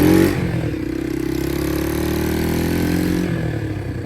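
A motorcycle engine on a motorcycle test course in Adana Seyhan revs up loudly and close by, then holds a steady, sustained drone for several seconds before easing slightly at the end.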